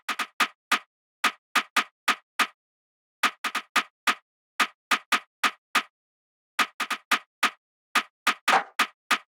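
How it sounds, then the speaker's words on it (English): A simple snare in the intro of a drill beat made in FL Studio, with crisp, dry hits in short clustered patterns separated by gaps, close and alone. "The only thing I add in the drums in the intro basically is just a simple snare, and the snare sounding like this."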